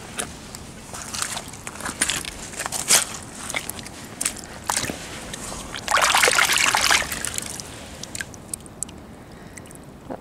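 A mudlarked clay pipe from the River Thames foreshore is rinsed in water, with soft trickles and splashes, a louder burst of pouring water midway, and light crunching steps on the foreshore.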